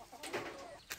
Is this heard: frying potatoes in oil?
no